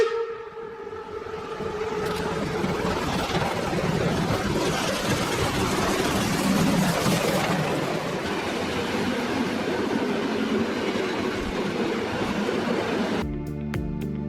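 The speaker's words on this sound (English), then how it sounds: "Steam locomotive with a freight train consisting of cement wagons." A steam locomotive hauls a freight train of cement wagons: a sustained rumbling roar with rolling clatter, steady and fairly close for over ten seconds, then breaking off abruptly.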